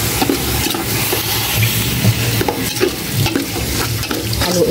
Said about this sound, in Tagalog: ilagay ko na po itong giniling. Giniling na pork.